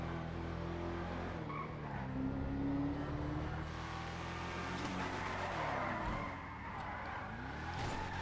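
A GMC Sierra pickup, the Yosemite in GTA 5, is driven with a steady engine drone, shifting revs and occasional tire skids, continuous and fairly loud with no talk over it.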